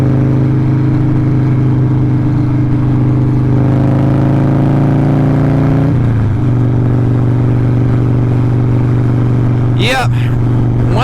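A 2000 Harley-Davidson 883 motorcycle rumbles steadily while riding, its engine tone rising and falling through a rev, loud and close, with a sharp clattering burst near the end.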